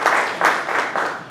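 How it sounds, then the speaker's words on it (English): An audience at a TANTEX meet-and-greet applauds, with bursts of clapping that swell and ease in quick repeated waves over a short stretch. "give him a big clap of applause for that"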